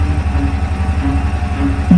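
A tractor engine runs with a steady, low, throbbing pulse, close and fairly loud, with no voices over it.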